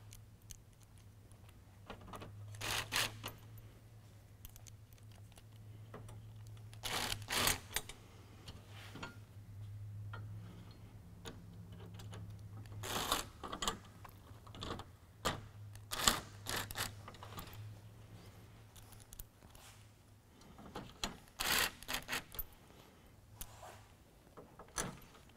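Screws being started and tightened on the grille frame bar of an nFab M1 grille on a 2011 Toyota Tundra: faint, scattered clicks and ticks, sometimes in quick clusters, over a low steady hum.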